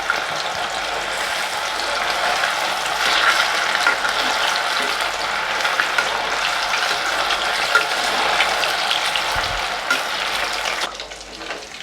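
Pieces of chicken 65 deep-fry in hot oil with a loud, steady, close sizzle and crackle that runs unbroken and drops off sharply near the end.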